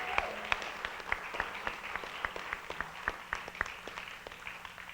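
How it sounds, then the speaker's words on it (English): An audience gives a modest round of clapping, a fairly sparse, uneven patter of hands heard at moderate distance, tapering slightly toward the end. "let's all give Cody a big round of applause"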